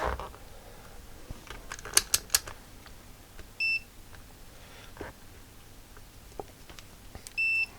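A multimeter set to continuity beeps while testing keyboard keys on an Atari 65XE under restoration, giving two short steady tones a few seconds apart among soft clicks and handling noises.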